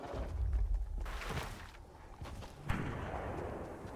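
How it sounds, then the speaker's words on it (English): Video game gunfire cracks out from behind in bursts, with heavy booming low impacts and sharp reports scattered across four seconds, moderately loud with no speech. "I'm getting shot at from behind by from somewhere."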